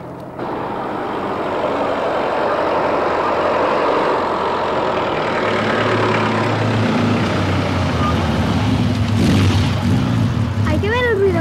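A noisy vehicle engine with a smoky exhaust runs continuously in a children's series, a steady rumbling drone that swells and holds, with people talking over it.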